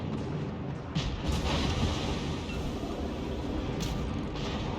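Heavy, continuous booming gunfire with dense low rumble and sharp blasts layered throughout, from warship guns firing in World of Warships.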